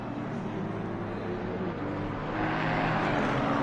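A GT4 race car in a racing game at Misano runs a lap with a steady engine drone that builds slightly louder toward the end, continuous and moderately close.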